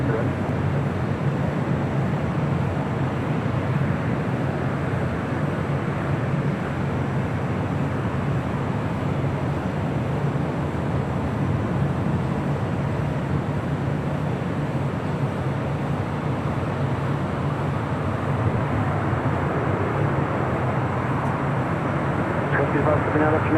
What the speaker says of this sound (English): That was United Express Flight 5401, operated by SkyWest Airlines, coming from Reading in a CRJ 700ER.